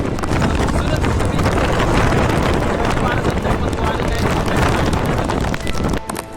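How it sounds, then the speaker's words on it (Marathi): Strong gusting wind roars across the microphone on top of Visapur hill fort, a loud, continuous buffeting rumble that barely eases before dropping off sharply at the end. "बघू शकता उभं राहता येत नाही, एवढं जोरात वारा आहे."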